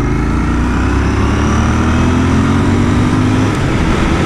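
A Royal Enfield Continental GT motorcycle engine under way on a ride, a loud, close and continuous drone whose pitch rises slightly as the bike pulls, with no talking.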